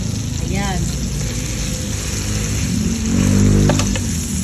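Ground meat frying in a pan, a steady broad sizzle with a louder surge of crackling near the end, heard under someone talking.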